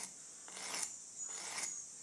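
A forged hawksbill karambit blade rasps across a sharpening stone in two slow, even strokes working the inside bevel, soft and close with no talking.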